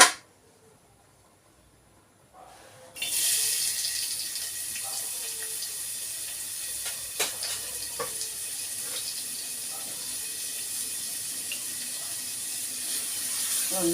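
Onions go into hot coconut oil in a pan. After about two seconds of near silence, a loud, steady frying sizzle begins abruptly and continues without a break.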